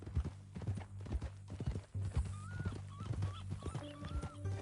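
Horse hooves clip-clop steadily at a walking pace in the Red Dead Redemption video game, up close, with a brief whinny and game music layered over them.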